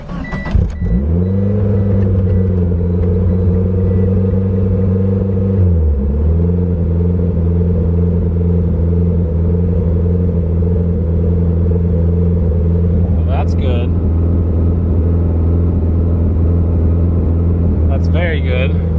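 A Mitsubishi 4G63 car engine, just restarted, holds a steady loud rev with a dip partway, then climbs again; brief bursts of talk break in near the end.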